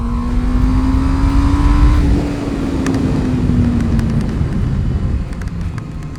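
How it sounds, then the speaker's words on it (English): A 2011 Honda CBR 600 F with a 600cc engine revs loud and close, its pitch climbing steadily before easing off under a continuous roar. "You really have this 600cc just revving higher and higher feel"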